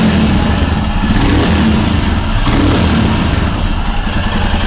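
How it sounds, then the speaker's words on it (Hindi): Royal Enfield Himalayan motorcycle engine running close by, a steady loud thumping exhaust note held throughout, with slight rev swells around the middle. "चलो इसको बंद करिए, हिमालयन को स्टार्ट करते हैं। मेरे ख्याल से दोनों का सेम आना चाहिए एग्जॉस्ट नोट"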